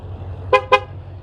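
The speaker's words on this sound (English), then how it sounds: "it's beeping like that because I have the key in my pocket, so it just locked itself" Two short electronic horn beeps from a 2020 Mustang GT500 auto-locking, loud and close, over a low steady hum.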